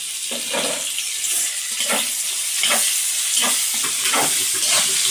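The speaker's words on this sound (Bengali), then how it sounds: "এই ভাজির সাথে পেঁয়াজটাও কিন্তু ভাজা হয়ে যাবে।" Sliced onion and pointed gourd (potol) sizzle steadily in a hot pan, a loud continuous hiss broken by periodic stirring scrapes.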